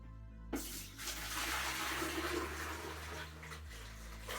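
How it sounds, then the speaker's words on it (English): Sparge water for a raspberry wheat beer brew is poured into a jug, a steady rushing, gurgling flow that begins abruptly and keeps going for several seconds at close range with no talking. "I'm going to move the sparge water to a jug."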